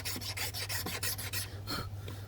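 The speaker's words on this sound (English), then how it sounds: "I'm going to file down." A metal file rasps along a button taper in a steady run of about eight close, even strokes, then slows to a couple of lighter passes, with a low constant hum underneath.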